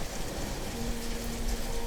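Steady rain falls continuously, a dense, even hiss throughout with a faint low hum beneath, no voices present.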